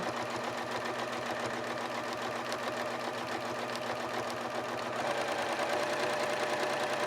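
A sewing machine stitching free motion quilting on a grid-based design, its rapid, steady mechanical hum running continuously and close, with no talk over it.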